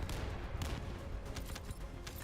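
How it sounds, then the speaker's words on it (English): Dense, continuous in-game combat din from The First Descendant, with overlapping gunfire bursts and booming explosions packed together at loud, steady intensity for the whole stretch. "There are explosions everywhere."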